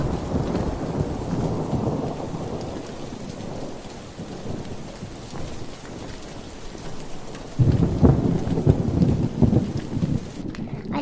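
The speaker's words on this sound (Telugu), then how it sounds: "వర్షం బాగా పెరిగి ఆకాశంలో ఉరుములు మెరుపులు నల్ల మేఘాలు కమ్ముకున్నాయి" Heavy rain pours steadily while thunder rumbles, growing louder partway through, a dense, continuous storm with no voices.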